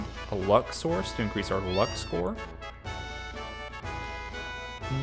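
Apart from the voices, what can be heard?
cat meowing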